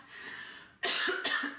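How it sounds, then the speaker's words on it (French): Two harsh, raspy coughs in quick succession, close and loud, following a quiet stretch of low background hiss. "je tousse tout le temps"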